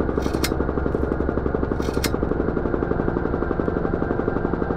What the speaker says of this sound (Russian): Почему эти звуки похожи на рокот вертолета?